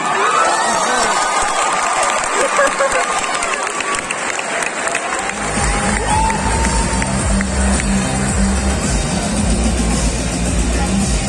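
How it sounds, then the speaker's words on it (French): A convention audience cheers, whoops and applauds for a cosplayer dressed as Haru from The Cat Returns at a cosplay contest, a loud sustained crowd roar that swells and thickens midway. "je vous demande d'applaudir bien fort le personnage de Haru du Royaume des Singes"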